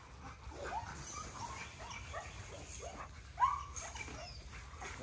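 Rottweiler whimpering and yipping close by, several short whines spread across the stretch with one louder yelp near the end, over faint background noise.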